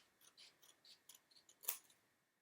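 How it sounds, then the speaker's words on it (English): Scissors cut paper while a book is trimmed, a soft series of quick close snips in an uneven rhythm, ending with one sharper, louder snip. "So what I might do is just get some scissors and see if I can make that a bit straighter"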